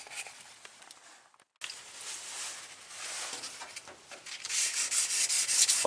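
Hand sanding of a car's clear coat with folded 600 grit sandpaper over vinyl stripe decals on a Monte Carlo SS: a steady close rubbing rasp with a brief gap, growing louder and more vigorous toward the end.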